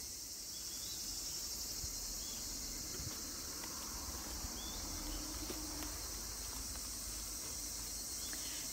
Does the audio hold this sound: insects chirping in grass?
yes